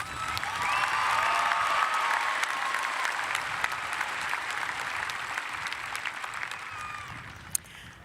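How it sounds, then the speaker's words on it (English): A large crowd at a 2022 high school graduation ceremony applauding the graduating class, a dense, sustained roar of clapping that carries steadily at moderate distance with faint cheers mixed in. "Please give all of our students a round of applause."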